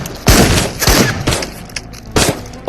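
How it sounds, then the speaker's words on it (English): Shotgun in the game Into the Radius fired rapidly like an assault rifle, with four loud, sharp blasts in an uneven rhythm, each followed by a short decaying tail. "So in some sense, it is a shotgun, but it just acts like an assault rifle."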